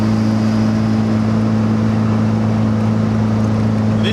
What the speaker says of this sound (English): Can probably hear how high this car is revving